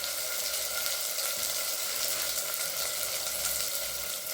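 Steady hiss and crackle of brinjal and onion-type ingredients sautéing in about two ladles of oil for a tamarind kulambu, a dense, even sizzle running throughout with no voices.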